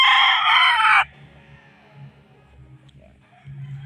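A gamefowl stag crows loudly and close for about a second at a game farm, followed by soft low clucking and faint farm noise.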